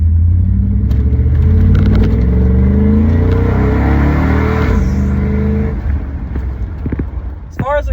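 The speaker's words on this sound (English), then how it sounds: "As far as exhaust on this truck goes, it's literally just shorty headers, it's stock cats, and I've got a MagnaFlow straight through muffler." A truck with shorty headers, stock catalytic converters and a MagnaFlow straight-through muffler rumbles loudly and close, its exhaust note rising and falling as the engine is revved, then settling to a lower idle near the end.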